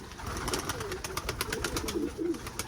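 Tumbler pigeons coo softly outdoors, with low throaty calls under rustling, flapping and background noise throughout a short stretch.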